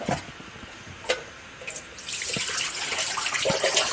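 A kitchen tap runs steadily while Polish zurek sour rye soup is cooked, following a few scattered clicks and small knocks; the water rushes fairly close and continuous for the last two seconds.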